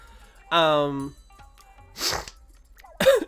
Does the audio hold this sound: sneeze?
yes